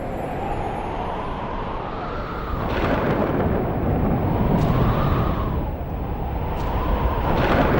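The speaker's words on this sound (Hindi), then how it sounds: "अचानक तेज जल वृष्टि के साथ तूफान आया।" A heavy storm with steady, dense rainfall and rumbling surges that swell and fade in waves, loud and close throughout, with no voices.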